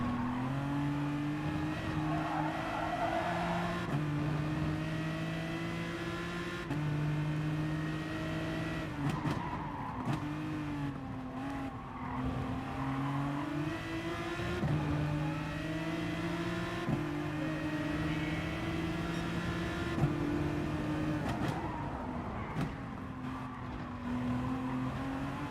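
Race car engines in a Bathurst racing video game, including a GTR, droning steadily near at high revs with repeated gear-change dips and brief tire squeals throughout.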